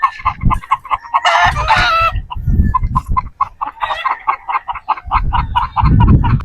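Gamefowl roosters, 3/4 Sweater and 1/4 Boston crosses, cluck and squawk repeatedly in loud, close bursts, with honking calls and bird chatter overlapping throughout.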